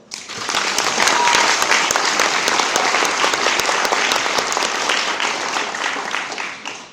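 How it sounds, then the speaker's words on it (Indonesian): Loud, sustained applause fills a parliamentary hearing room, a dense continuous clatter of many hands that holds steady for several seconds before tapering off at the end. "Aplaus."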